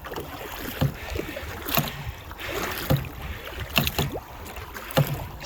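Paddle strokes from a kayak on open water, a soft splash and swish every second or so in a steady rhythm, close by, with light wind noise.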